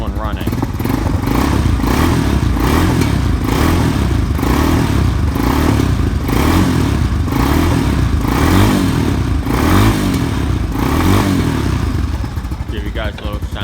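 A 2020 Honda TRX250X carbureted ATV engine idles and runs steadily up close, with a throbbing, slightly clattering mid-range tone that holds loud and continuous before easing off near the end.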